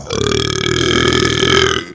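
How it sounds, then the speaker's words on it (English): One long, loud, rumbling burp runs for nearly two seconds, deep and croaky with a rough, buzzing texture, close up and alone. "don't like that burping"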